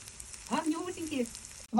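Zucchini fritters sizzle softly in a frying pan, a faint steady crackle running under a voice speaking close by.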